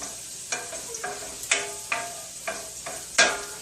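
Onion and garlic sizzle in a pan for a home chicken-and-rice dinner, close and crackling, with a scrape of stirring roughly every half second giving a loose rhythm.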